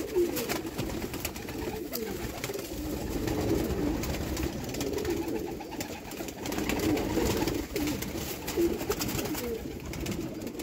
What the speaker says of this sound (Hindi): छत वाले कबूतर